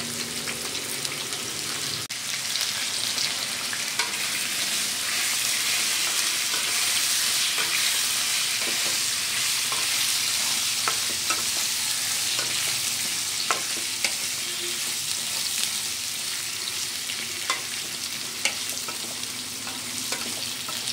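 Large pieces of raw mango fry in oil with popping mustard seeds and asafoetida, a dense, loud, close sizzle with scattered sharp crackles and occasional stirring scrapes running steadily throughout.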